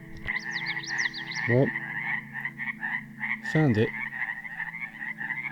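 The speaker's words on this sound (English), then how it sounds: "the frogs are going crazy" Frogs croak in a dense, continuous chorus at a swamp in the Cascades, with rapid, repeated calls filling the whole stretch. Someone speaks briefly twice over the chorus.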